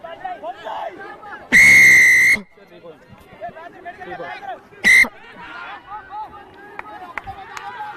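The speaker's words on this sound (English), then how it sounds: "You want to respect my whistle." At a schools rugby league match, a referee blows a loud, long, shrill whistle blast, then a short sharp one a few seconds later, over crowd noise, running players and nearby voices.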